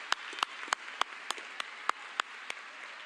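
Sparse, scattered claps ring out from an audience at a Fall 2022 commencement ceremony in Vancouver, about ten distinct sharp hand claps spread unevenly over a few seconds against a quiet room.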